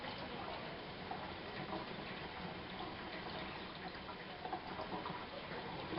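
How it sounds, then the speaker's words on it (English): Tap water runs steadily and continuously into a sink while a container is rinsed out during soapmaking with sodium hydroxide, a close, even hiss with no talk over it. "while that water is running, I will stir the sodium hydroxide in with the distilled water"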